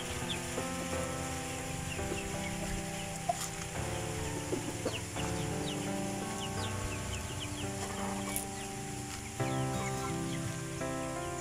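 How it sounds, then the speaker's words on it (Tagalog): Chickens cluck and murmur steadily at close range on a rainy farm in Mindanao, with rain and rural background noise running throughout. "Saan ka lumingon, may mga manok, oh."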